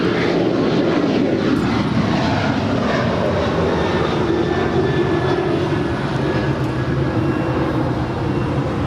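Boeing 747 jetliners at LAX airport fill the air with a loud, steady jet engine roar, a continuous broadband rumble and whine holding close and unbroken throughout.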